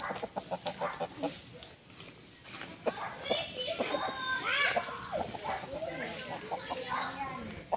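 Chickens cluck and squawk in a busy rural Philippine farmyard, with children's voices and other farm sounds mixed in around them.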